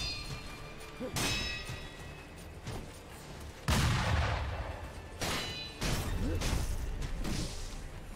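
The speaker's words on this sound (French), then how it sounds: "Ah, on peut parer les coups de feu." Metallic sword clangs and gunfire bursts from the video game Sekiro, as a sword parries incoming gunshots, with several sharp loud impacts spaced across the stretch and dense crashing noise between them.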